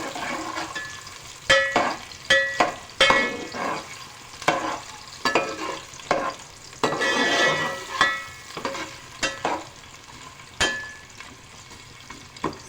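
Onions frying in mustard oil in a pan, with a crackling sizzle under repeated sharp scrapes and clacks of a spoon stirring against the pot, close and fairly loud.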